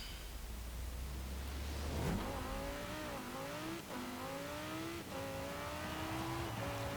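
Lamborghini Huracan engine in Forza Horizon 4 revving hard through repeated upshifts on a fast course, a loud continuous roar with rising and dropping pitch and no talk.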